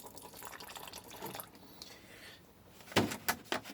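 Water poured into a pot of taco-flavored mashed potatoes with taco sauce, heard as faint trickling and dripping followed by a few louder splashy pours near the end.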